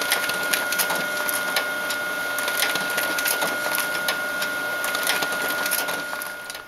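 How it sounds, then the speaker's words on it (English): A printer runs continuously, printing pages in reverse order with a steady mechanical whir and rapid rhythmic clicking and rattling throughout, fairly loud and close, with no voices. "So it's printing in reverse order."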